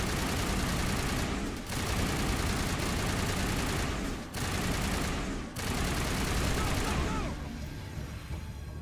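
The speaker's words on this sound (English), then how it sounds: "Open fire. Open fire!" A Mass Effect shootout erupts in dense, continuous gunfire, loud and close, with brief lulls around two and four seconds before it tapers off near the end.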